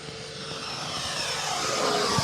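FMS Avanti S V3 70mm electric ducted-fan RC jet on a 6S battery flying around at about half throttle, a steady whooshing whine that swells slightly as it passes, heard alone over open-air background.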